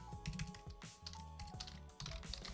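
Steady typing on a computer keyboard, rapid clicky keystrokes running continuously at close range with no voices.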